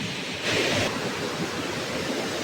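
Rushing water from a waterfall in a steep, dangerous spot forms a loud, steady broadband roar that swells briefly, heard up close with no talking.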